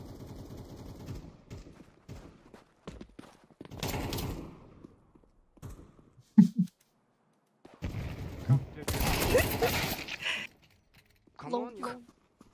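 Bursts of rifle fire in Counter-Strike 2 come in several separate volleys, some short and clipped and some longer rapid strings, up close and punchy, with someone talking between the shots.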